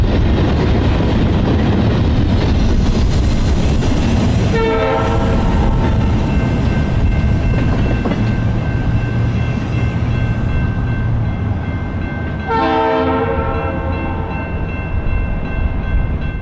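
An Amtrak P42 locomotive roars past at close range near searchlight signals at a rail junction, its horn sounding two distinct blasts several seconds apart over a steady heavy rumble of wheels and engine.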